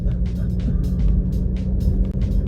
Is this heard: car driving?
yes